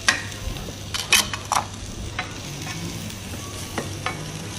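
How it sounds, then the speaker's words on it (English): Mushrooms fry in a pan with a steady, soft sizzle, broken by a few brief scraping and clinking stirs of the utensil against the pan. "I'm just giving my mushrooms a bit of a cookout"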